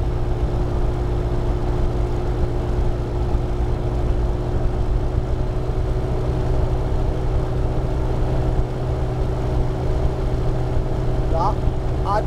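A mechanical engine runs steadily with its RPM gradually increasing, giving a continuous loud drone with steady humming tones and faint voices in the background.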